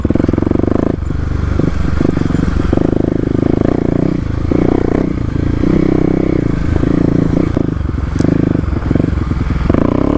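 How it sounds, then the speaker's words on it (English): A Kawasaki KLX250 dirt bike rides off-road over big rocks, its engine droning loudly and continuously up close with rattling, clattering and scraping from the rough terrain mixed in. "KLX does wander around a little bit on some of these bigger rocks."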